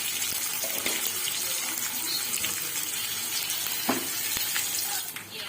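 Tempering spices fry in hot oil in a pan for uggani, giving a continuous close sizzle with a few soft stirring knocks, and no talking.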